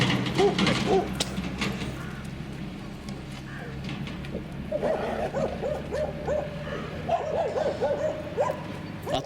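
Several dogs bark and yip during a training session with a female in heat, one male chasing off a rival; repeated barks come in bursts over outdoor background noise, with a faint voice now and then.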